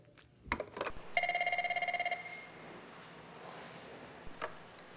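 A telephone in a coal mine control room rings with one clear, close electronic trill lasting about a second. A few knocks come before it, and faint room noise and a later click follow.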